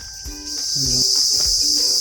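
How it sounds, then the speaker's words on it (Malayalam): A shrill, continuous drone of cicadas rings out loudly and steadily at Falaj Daris Park in Nizwa, Oman, with a few soft low thuds underneath. "ചീവീടുകളുടെ കരച്ചിൽ കേൾക്കുന്നു"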